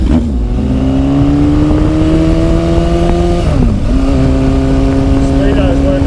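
A Yamaha XS1100 cafe racer motorcycle on a ride, its engine droning steadily with rising pitch through acceleration, a brief drop around a gear change, then climbing again, loud and close.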